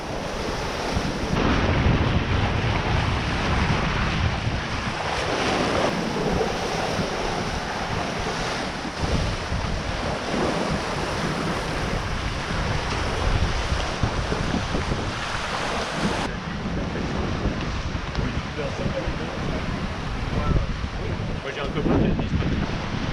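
A sailboat runs under strong, sustained wind, with constant wind buffeting and waves rushing and splashing against the hull, loud and continuous for over twenty seconds.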